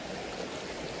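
Running water pours steadily and close by, a continuous broadband rush with no voices, heard while sweeping a metal detector over ground.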